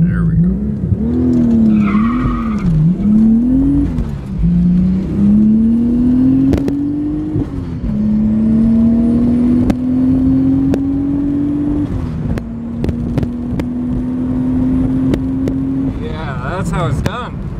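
A street-legal Supra launches on the drag strip at St Thomas Raceway Park, heard from inside as the engine revs rise and fall through the gears, loud and continuous, with a voice talking over it.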